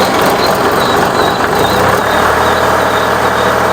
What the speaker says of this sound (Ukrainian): на холостих обертах, зараз я йому додавлю газу трішки